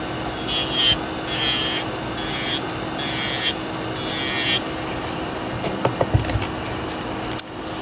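An electric nail drill whirs in repeated bursts of high buzzing, stopping and starting several times, followed by a few light clicks and taps.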